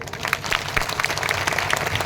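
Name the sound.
applause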